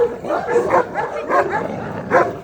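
Dogs snarl, yelp and bark in rapid, overlapping bursts, close and loud, as in a scuffle.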